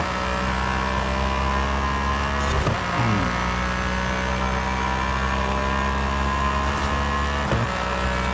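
A Cadillac race car engine in the racing video game Forza Horizon 5 holds a loud, continuous high drone at near-constant pitch, with brief dips and shifts as the car takes corners on a race circuit.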